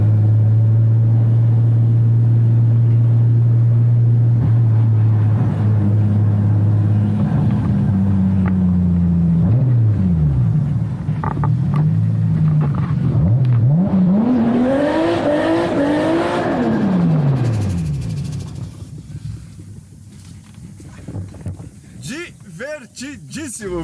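A 600 hp Toyota Supra accelerates hard from inside the cabin, its loud engine climbing steeply through the gears with deep rising and falling revs, then settling to a quieter idle while people talk.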